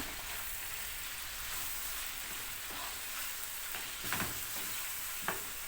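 Green capia peppers fry in a pan, sizzling steadily and fairly quietly with a soft continuous hiss, broken by a couple of light scrapes of stirring.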